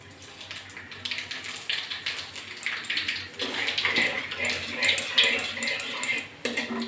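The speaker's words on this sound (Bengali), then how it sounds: "প্রথমে আমি একটু কালো জিরে তেলের পরে দিয়ে দিচ্ছি" Black cumin seeds dropped into hot oil in a wok crackle and sizzle close by, mixed with clattering metal utensil scrapes and knocks against the pan.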